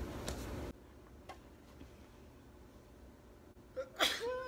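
A single sharp sneeze bursts out near the end of a quiet moment during a middle schoolers' makeup tutorial, following a louder rustling at the start.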